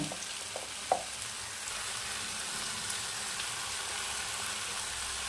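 Drumstick chorchori gets stirred in a pan with a little ghee, producing a soft, steady sizzle with a faint scrape near the start, quiet and continuous.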